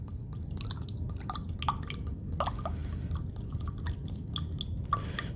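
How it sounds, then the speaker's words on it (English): Ammonium chloride sample being shaken in water in a small container for a science demonstration, with scattered light clicks, drips and liquid sloshes over a low background hum, no talking. "add this to our water,"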